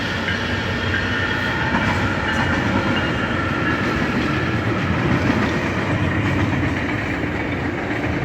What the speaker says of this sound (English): So yes, there you have the tri-rail train